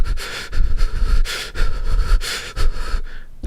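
A voice imitates another man breathing heavily: loud, close, rhythmic sniffs and huffing breaths repeated in quick bursts, ending in a short pause.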